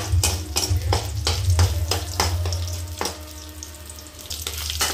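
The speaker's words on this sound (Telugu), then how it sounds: "కాస్త ఫ్రై కానివ్వండి, గోల్డెన్ రంగులోకి రావాలి." Oil sizzles and crackles steadily as tempering spices and dried red chilies fry, with repeated sharp scraping taps of a utensil against the pan.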